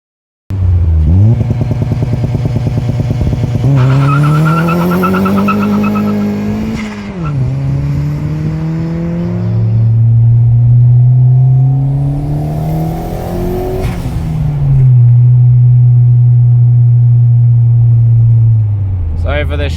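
A turbocharged Ford Figo on lowering springs driving fast, its engine revving up and dropping repeatedly through the gears, loud and close from inside the car, with a droning tone between pulls.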